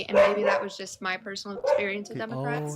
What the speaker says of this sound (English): I'm sorry about my dog in the background.